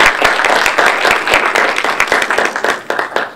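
Applause for council candidates at a District 3 and 4 forum, a steady wash of many hands clapping with sharp individual claps standing out, fairly close and sustained throughout.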